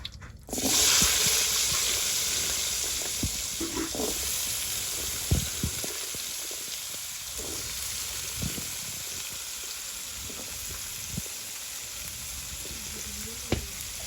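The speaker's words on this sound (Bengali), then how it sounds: "এখন আলুগুলো কষিয়ে নিব" Potatoes sautéing in hot oil in a pan: a sudden loud burst of sizzling as they go in, settling into a steady crackle punctuated by scattered utensil knocks and scrapes, close and without talk.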